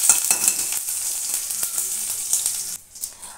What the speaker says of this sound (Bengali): আর আমি কালো যে সর্ষেটা হয় এটা ফোড়ন দেবো